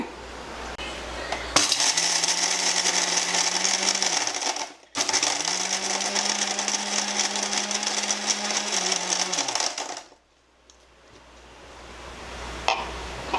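A kitchen mixer grinder whirs loudly as it blends ice apple (nungu) with sugar, running in two steady bursts of a few seconds each with a brief stop between, then falling quiet.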